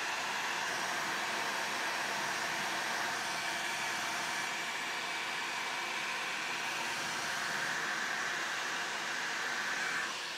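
A hair dryer blows steadily across poured pigmented resin to spread it into cells, a continuous close, loud rushing airflow that holds even for the whole stretch with no talk.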